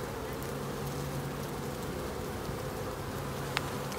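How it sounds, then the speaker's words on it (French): Steady, dense buzzing of many honeybees close by on a hive frame, a continuous low drone with a faint click near the end. "Il y a trop d'abeilles sur celui-là."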